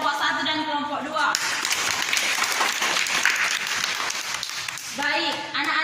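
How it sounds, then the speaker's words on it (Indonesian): A classroom of pupils applauds two discussion groups, a dense burst of many hands clapping for several seconds, with a voice speaking before and after the clapping. "berikan untuk aplaus kepada kelompok 1 dan kelompok 2"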